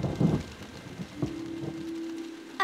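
Rain falls during a summer storm in a children's cartoon, a soft steady patter with a brief low rumble at the start, with no voices.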